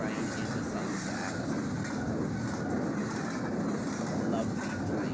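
An ultra-long intermodal freight train hauled by seven locomotives rolls past at sunset somewhere on an American railroad, a steady broad rumble and rush, mixed with wind buffeting the microphone.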